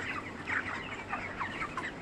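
Farm chickens resting after feeding cluck softly and repeatedly nearby, a loose chorus of short, overlapping clucks with no talking.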